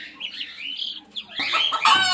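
Fancy chickens clucking and squawking close by, with busy overlapping calls that grow louder and denser toward the end.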